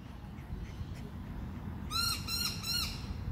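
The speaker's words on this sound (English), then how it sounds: "wondering what the hell those birds are twittering about. They might have been a dragon. Yeah, I think so. Noisy miners" Three quick bursts of shrill, piping noisy miner bird calls over a low steady rumble of background noise, fairly close and clear.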